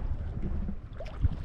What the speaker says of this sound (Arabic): وكتسمع صوت الماء